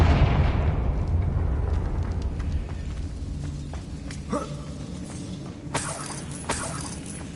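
A Confringo fire spell explodes in a PS5 video game: a big booming blast at the start rolls off into a long rumbling decay, followed by a few sharper crackling pops, with no talking.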